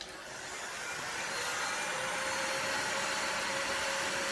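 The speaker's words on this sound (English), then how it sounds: "Got my Steinel heat gun here." A Steinel heat gun blows with a steady, loud fan-driven whoosh and hum that builds over the first second and then holds even, heard close by with no talking, during work on a Formula Drift Pro 2 RX-7 build.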